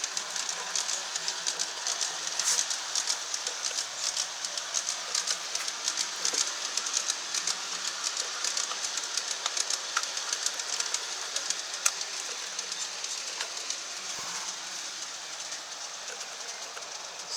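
A G scale model train rolls around a garden railroad with a steady, even rumble, running continuously at moderate loudness with no one speaking.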